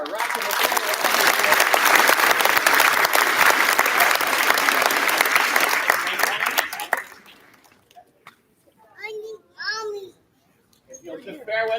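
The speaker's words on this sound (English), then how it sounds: "One more round of applause for our rock and" Warm, dense applause from an audience at a school arts celebration fills the space for about seven seconds, then cuts off, leaving a few brief spoken phrases in a quieter room.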